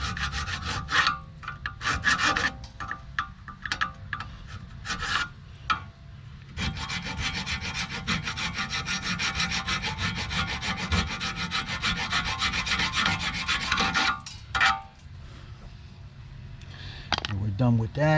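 Wire brush scraping rust off the brake caliper of an Audi A4 Quattro 3.0, harsh rapid back-and-forth scrubbing, close and loud, with a sustained steady stretch in the middle and someone talking over it.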